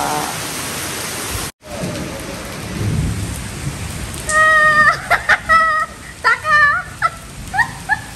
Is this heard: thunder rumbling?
yes